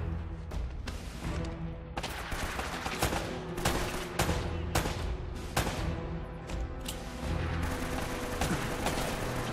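Rapid gunfire rattles through a firefight in Uncharted: Drake's Fortune, with bursts of sharp shots and automatic fire cracking irregularly across several seconds, loud and close.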